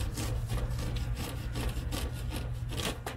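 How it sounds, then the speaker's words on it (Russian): Firewood being sawn with the small saw of a pocket knife at a campsite, steady rapid back-and-forth rasping strokes, close and loud, with no voices. "У меня ведь есть супер-супер-пупер ножик с пилой, между прочим."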